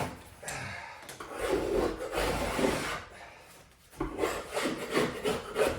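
A hand scraper drags across wooden door trim in repeated rough strokes, close and loud with brief pauses between passes, no voices.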